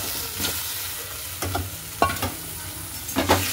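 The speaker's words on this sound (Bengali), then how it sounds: "তো লাউগুলো দিয়ে দিলাম" Pieces of bottle gourd go into a hot pan of frying ingredients, giving a continuous close sizzle broken by a few sharp scraping stirs of a spatula.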